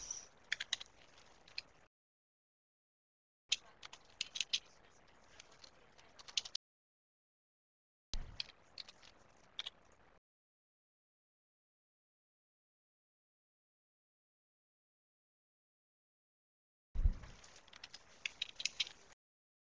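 Computer keyboard typing in bursts of rapid clicking, separated by stretches of silence, fairly close and moderately loud with no talking.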